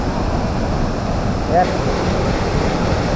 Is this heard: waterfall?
yes